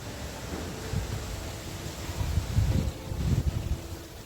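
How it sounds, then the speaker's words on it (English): Strong gusty wind outdoors buffets the microphone as a low, rumbling roar that swells and surges in uneven gusts, loudest in the second half. "it's so windy outside, it's like crazy"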